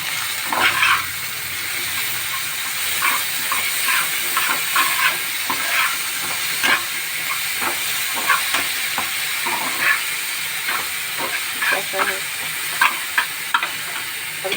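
Spices and ginger-garlic paste fry in a pan under a constant hiss, broken by frequent scraping and clinking stirs that come in irregular bursts, close and fairly loud throughout.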